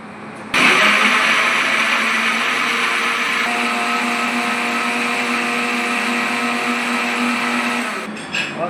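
A blender grinds boiled tomatoes into paste for pizza sauce, its motor switching on abruptly and whirring at a loud, steady pitch for several seconds before cutting off.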